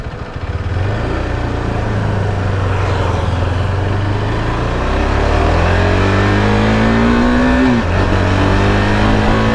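A KTM motorcycle engine runs with a steady low drone, then revs up, its pitch climbing before dropping back briefly; no voices.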